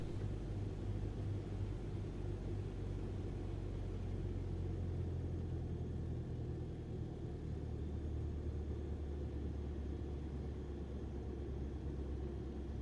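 A Cessna 152 light aircraft landing in wind on a runway, heard as a continuous low engine and wind rumble from inside the cabin, steady and unbroken throughout.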